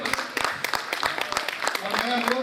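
Audience applause greets an honored performer at a Chhattisgarhi cultural program, a broad patter of clapping running steadily throughout with a voice and sharp hand claps mixed in.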